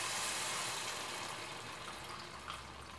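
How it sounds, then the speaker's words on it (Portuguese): Water poured from above into a pot of dried rice, a soft, steady, fairly quiet stream of liquid with no talking over it. "Agora a gente vem com a água, olha."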